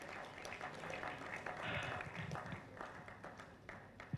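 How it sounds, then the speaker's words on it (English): A conference audience at the 2025 National Integrity Conference gives a round of applause for the Vice Chair, a fairly quiet, sustained spread of clapping from many hands. "can we give a round of applause to our Vice Chair?"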